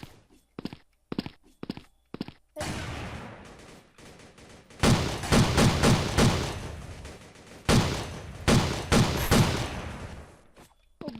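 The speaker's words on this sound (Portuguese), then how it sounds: "O bom dessa metralhadora para modo zombie" A machine gun fires in a zombie-mode shooter video game, with short spaced bursts at first, then longer loud volleys of rapid shots and booming impacts, without talk.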